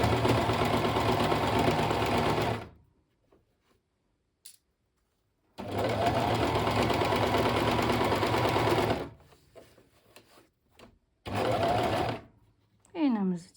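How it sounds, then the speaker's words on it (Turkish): Sewing machine stitching the lining into a crochet bag with a cat motif, running in three steady whirring bursts separated by pauses, with brief talk between the bursts. "Şimdi indirdik yine ayağımızı ve buradan başlıyoruz yine dikmeye."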